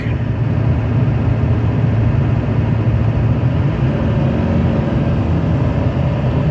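LB7 Duramax diesel truck cruising at about 55 mph, a loud, steady low engine drone blended with road and wind rumble, continuous and even throughout with no talk.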